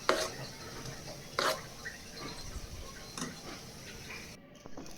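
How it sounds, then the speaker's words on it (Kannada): Ground chutney for paddu is stirred and mixed in a bowl, giving soft wet scraping and a few light clinks of a spoon against the dish. "ರುಬ್ಬಿಟ್ಕೊಂಡಿದ್ದೀನಿ ಚಟ್ನಿನ ಅದನ್ನು ಮಿಕ್ಸ್ ಮಾಡ್ಕೊತಾ ಇದ್ದೀನಿ"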